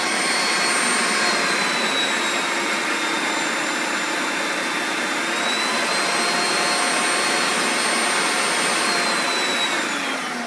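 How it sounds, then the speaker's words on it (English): A food processor grinds aioli ingredients with a loud, continuous motor whine and a high pitch that wavers slightly, running steadily throughout without speech. "You just want to get all those ingredients ground up together"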